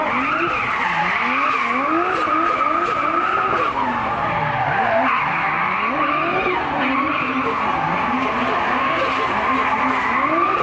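A car drifting at a night drift event in Fritidsparken, Skien, Norway: loud, continuous tire squeal with engine revs rising and falling in long sweeps, close and sustained throughout with no pauses.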